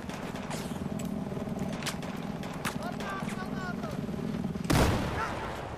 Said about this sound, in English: you might want to throw a grenade in that tube